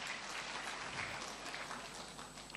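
Church congregation applause during a sermon, a faint, distant wash of clapping held evenly for a couple of seconds.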